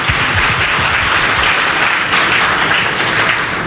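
A church congregation at a Haitian French-language service applauds loudly and steadily, a dense, close wash of clapping that fills the whole moment with no pauses.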